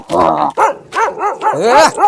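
A dog barks several times in quick succession, close and loud, with whiny, yelping tones between barks.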